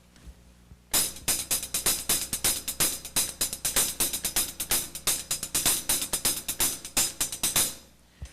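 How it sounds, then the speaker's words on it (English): A paradiddle pattern is played on a drum kit's hi-hat, a steady run of crisp, bright strokes with accents, loud and close for about seven seconds. "I'll play it on the hi-hat."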